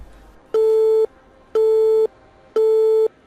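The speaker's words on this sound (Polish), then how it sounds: "A teraz dzwoni wam telefon." Phone ringing in the Watch_Dogs video game: three identical electronic tone bursts, each about half a second long, evenly spaced about a second apart, loud and clear over a faint quiet background.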